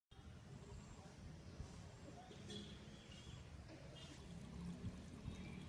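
Water falls steadily somewhere out of sight, a continuous pouring, trickling rush close by, with faint bird chirps in the background and no other clear sounds.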